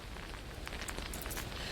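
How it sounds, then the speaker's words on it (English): Heavy rain falls steadily outdoors at a street intersection in Kendall, Miami, during Hurricane Irma, a dense continuous hiss with scattered sharper drop impacts and no voices. "this rain started coming down"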